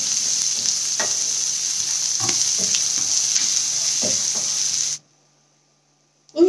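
Onion and peanuts fry in a pan with a steady, close sizzle and occasional stirring scrapes. The sizzle runs for about five seconds, then cuts to silence, and a brief sound returns at the very end.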